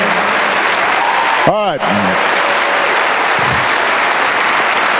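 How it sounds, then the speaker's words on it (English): A crowd at a 2008 presidential campaign rally in Ames, Iowa applauds loudly and steadily for several seconds, with cheering and a voice briefly breaking through near the start. "Please give him another round of applause."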